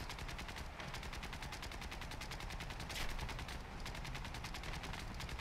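Machine gun fire from AI gunners aboard an aircraft in the War Thunder video game, rapid sustained bursts of clattering shots at a steady rhythm, fairly faint, with no talking.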